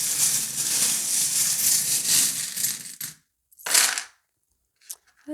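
Small divination charms are tossed and clatter together, a few seconds of dense clinking followed by a short second rattle and a couple of faint isolated clicks.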